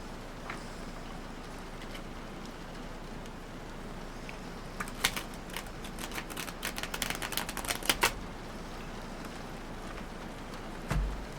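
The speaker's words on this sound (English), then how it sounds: "Let me see if I can shuffle these." A deck of tarot cards being shuffled by hand: a faint steady rustle, then a burst of quick riffling clicks and flutters near the middle, ending with a soft thump as the deck settles.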